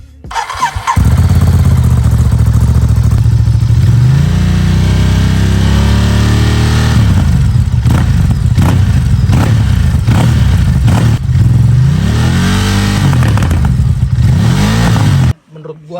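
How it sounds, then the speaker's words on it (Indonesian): A Ducati Desert X motorcycle fitted with an aftermarket exhaust starts up and revs hard, with loud rising and falling engine sweeps and sharp blips close by, then cuts off abruptly near the end. "Kita cek sound dulu suaranya."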